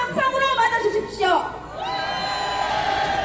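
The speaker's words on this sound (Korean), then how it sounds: "이기순 위원장님 큰 함성으로 맞아주십시오" Crowd at a Taegukgi rally in the Seoul Station plaza, with voices shouting and whooping in a swelling burst before settling into a lower sustained hum.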